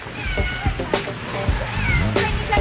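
A pet cat named Nikanor, loose outdoors in the rain, gives several drawn-out, pleading meows in close succession, fairly near and clear, with faint background voices and noise.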